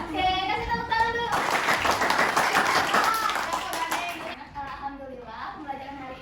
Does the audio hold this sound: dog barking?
no